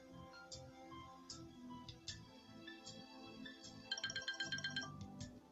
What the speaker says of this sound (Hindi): ये लो, अब वेलकम कॉल भी आ गया।